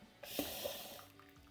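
Boiling water poured into a fermenter for homebrew beer, a Mangrove Jacks Hazy IPA kit with liquid malt extract, makes a steady close splashing rush that starts abruptly and carries on throughout.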